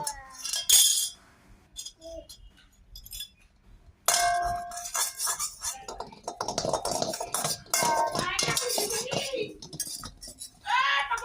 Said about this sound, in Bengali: আবার সাঁড়াশি নিয়ে রান্না করছো?